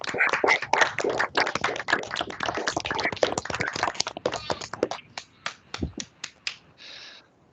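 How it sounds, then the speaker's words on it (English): A small online audience after a talk gives scattered, uneven clapping and snapping, dense at first and then thinning into a few separate claps before it fades out. "give Suni a thankful round of applause for her talk today"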